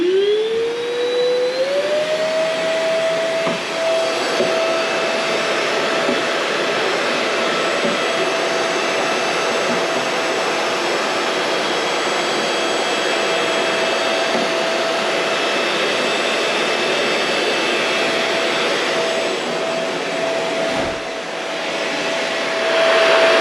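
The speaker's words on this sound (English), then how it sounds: "Use my cordless vac." A cordless vacuum cleaner spins up with a rising whine, then runs steadily and loudly close by for over twenty seconds with a constant high-pitched motor tone.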